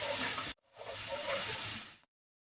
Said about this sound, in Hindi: जीरे के पक जाने पर एक बड़ा प्याज कटा हुआ डाल देंगे। इसको लगातार चलाते हुए भूनेंगे।